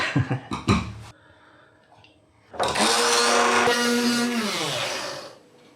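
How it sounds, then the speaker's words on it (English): Kitchen blender grinding coconut with a bit of oil into a paste for beef rendang: a loud, steady motor whir that runs for about three seconds, then winds down, after some brief clattering handling noises. "Now I'm blending the coconut into a paste."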